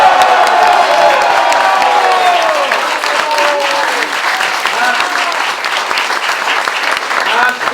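A crowd at the Reconquête election-night headquarters in Paris for the 2024 European elections claps loudly with cheers and whoops. The close, vigorous applause eases slightly over several seconds, and voices shout within it.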